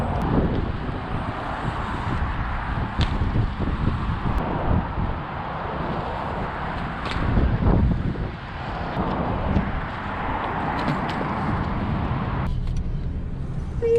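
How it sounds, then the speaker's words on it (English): Strong wind buffets the microphone in heavy, rumbling gusts, with a low engine-like roar underneath throughout. "it's almost too windy"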